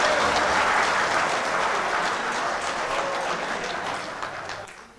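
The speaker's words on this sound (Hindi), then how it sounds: "सब लोग ताली बजा रहे थे, अच्छा लग रहा था।" A crowd at an Indian poetry gathering (mushaira) applauds in a full, continuous round of clapping that gradually thins and tapers off toward the end.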